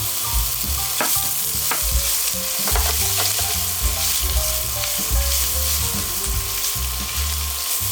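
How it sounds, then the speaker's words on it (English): Salami pieces frying in a very hot pan, a loud continuous sizzle and crackle with occasional stirring scrapes, close up and unbroken. "Once it's really hot, you want to add your salami."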